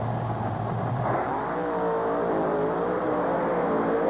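A drag racing car idles and revs at the starting line, a steady loud engine roar with wavering pitch heard at some distance and sustained throughout.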